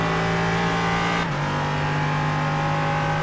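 A sports race car engine in a racing video game at Belle Isle holds a loud, steady drone, then the pitch drops abruptly as the driver lifts off the throttle, and the lower drone carries on.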